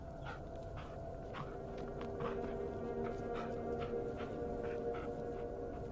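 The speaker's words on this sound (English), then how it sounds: "Yeah, good dog." Bullet, a dog in the Blair Witch horror video game, whimpers softly in a few short, repeated high cries above a steady low ambient rumble of the game world.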